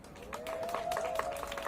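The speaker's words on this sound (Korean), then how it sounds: "그건 또 박수를 또 적게 치시네." Audience clapping at a political speech, a steady spread of many hands at moderate distance with a sustained tone running underneath and no distinct voices.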